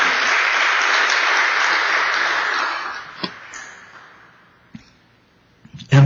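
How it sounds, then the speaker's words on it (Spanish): A church congregation claps in sustained applause that gradually fades away, followed by a few isolated knocks and a sudden bump at the end. "Denle un gran aplauso"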